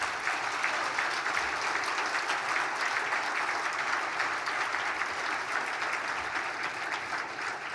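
An audience at a Sports Hall of Fame induction dinner applauds its 2007 inductees, a sustained, dense wash of clapping that holds steady throughout.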